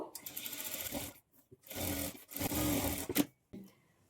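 A domestic sewing machine stitches a blouse lining along a half-inch margin in short bursts of whirring, separated by brief pauses, close and clear with no talk.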